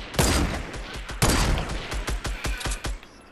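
Rapid bursts of gunfire from the battle royale game Fortnite during a three-player team match near Loot Lake, loud sharp shots in irregular clusters with brief pauses, no talk over them.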